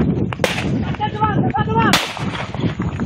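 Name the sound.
police warning shots fired into the air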